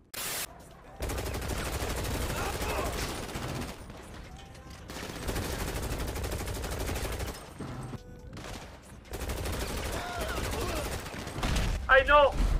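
Rapid bursts of video game gunfire crackle in repeated volleys, loud and close, with excited voices shouting and talking over much of it and a sharper cluster of shots near the end.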